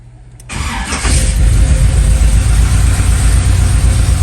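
A 1987 Monte Carlo SS engine with Holley EFI cranks briefly, then catches and settles into a loud, steady rumbling run close by, with no talking.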